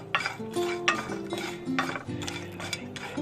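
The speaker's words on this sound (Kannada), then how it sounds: "ಸೊ ಕೊಬ್ಬರಿ ಹಸಿ ವಾಸನೆ ಹೋಗೋವರೆಗೂ ಹುರ್ಕೊಳ್ಬೇಕಾಗತ್ತೆ" Dry coconut being roasted and stirred in a pan, heard as quick repeated scraping and clinking of a utensil against metal in an uneven rhythm, close and clear with no talking.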